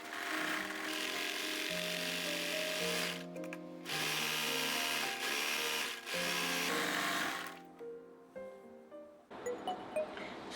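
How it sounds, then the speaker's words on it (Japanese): An overlock serger finishes the hem of a scalloped-lace culotte skirt with a loud, continuous whirring hum, pausing briefly a couple of times and trailing off into short, uneven bursts toward the end. "また下にロックミシンをかけます。"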